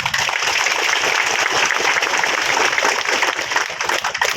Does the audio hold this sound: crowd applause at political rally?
yes